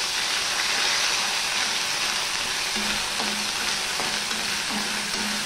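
Ginger paste, about a spoonful, sizzles in hot oil after salt and tempering for an onion- and garlic-free bhindi curry, a steady dense frying hiss with faint low hums and small clicks running throughout.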